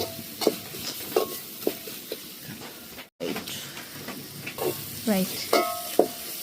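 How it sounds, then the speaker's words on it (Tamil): Ginger, garlic and curry leaves sauté in a pan with steady sizzling and repeated scraping stirs of a spoon, broken by a short gap midway, while a voice speaks briefly in between. "கருவேப்பிலையும் போட்டு வதக்கு நடக்குது"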